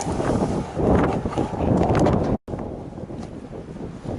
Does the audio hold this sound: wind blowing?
yes